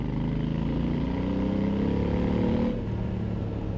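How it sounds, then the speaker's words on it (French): Engine of a 2022 Honda Africa Twin adventure motorcycle, a steady close idle-to-mid throttle drone with layered harmonics, easing slightly lower near the end; no talking. "Écoutez ce moteur."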